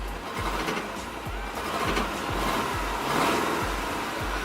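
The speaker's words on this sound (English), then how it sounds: "So you can hear it's like misfiring, and it sounds like it's running on 3 cylinders" A rough-running car engine with an exhaust leak, misfiring as if on three cylinders, is given some throttle: a close, uneven, lumpy putter with irregular beats swells gently, with no talk over it.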